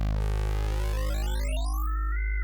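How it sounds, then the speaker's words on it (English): Resampled wavetable synth lead built in Vital for a Virus Sundial style sound, a single sustained note with a dense buzzy harmonic stack that sweeps and thins as its filter closes, playing alone. "So now that we have a wavetable that sounds like this."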